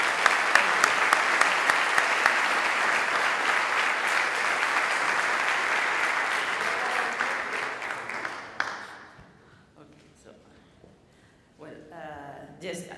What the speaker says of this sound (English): so a little applause please to the Dean of the School of University.